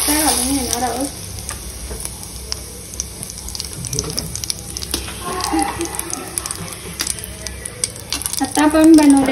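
Mustard seeds and curry leaves sizzle in hot oil for a masala dosa filling: a steady crackling fry with stirring scrapes and a brief watery splash near the end, no voices.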